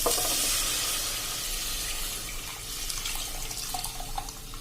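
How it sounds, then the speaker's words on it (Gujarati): Boiled, blended toor dal for Gujarati dal is poured into a hot tempering in a pan, giving a steady close wash of hissing, sizzling and liquid splashing that eases slightly in loudness over a few seconds. "હવે આ સ્ટેજે આપણે એમાં જે આપણે દાળ બોઇલ કરીને બ્લેન્ડ કરી છે એ નાખી દેશું"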